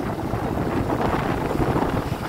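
Strong wind buffets the microphone while riding across the Cổ Chiên bridge in stormy, rainy weather, a steady, loud roaring rumble that lasts throughout with no voices.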